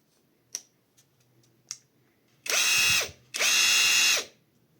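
A Catpower 4226 cordless impact driver fires in two loud, close bursts of whirring and hammering, each under a second long. A few faint clicks and taps come first.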